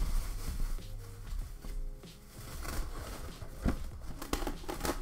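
A plastic bag crinkles and rustles during unpacking, with soft, irregular crackles and scattered sharper crinkling bursts, close and fairly quiet.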